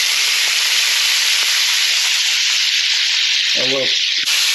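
Steak searing in a hot pan for medium rare gives a loud, steady broadband sizzle throughout, with a short tonal clink or voice-like burst near the end.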